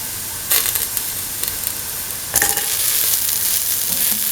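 Garlic and shallots hit hot oil in a pan with two sharp bursts of sizzling, settling into a steady crackling fry, close and clear with no one talking.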